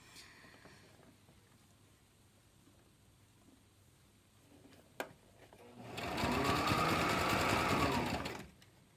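Sewing machine stitching a fabric face mask: a quiet click first, then a loud, steady close-up motor whir with rapid needle chatter lasting about three seconds before stopping.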